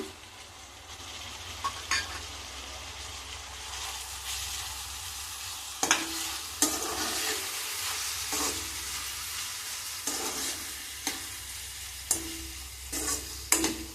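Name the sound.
dried prawns frying with onions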